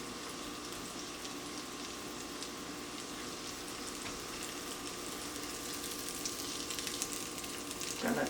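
Alaskan pollock fillets fry in a pan with a soft, steady sizzle and fine crackling that grows slightly busier toward the end, quiet and without talk.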